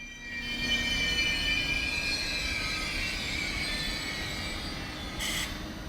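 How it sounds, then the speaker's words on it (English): A German ICE 3 high-speed train runs steadily along the rails with a loud, continuous rumble and high metallic whine, a brief hiss near the end. "The ICE 3 was Germany's first high-speed train for operation at 300 km per hour"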